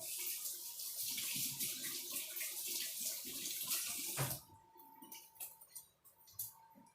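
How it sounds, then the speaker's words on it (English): Hands are washed under a running kitchen tap. A steady close rush of water splashes for about four seconds, then cuts off, leaving faint drips and small handling sounds. "Wash my hands again."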